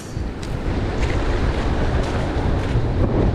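Cold wind gusting at a river mouth during shore fishing, a steady loud broadband rush with faint water movement beneath, continuous and close to the microphone with no voices.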